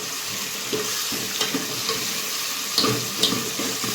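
Tomatoes and other food sizzle in a pan on a village kitchen stove while a spoon stirs them, giving a steady close frying hiss with a few scraping clinks.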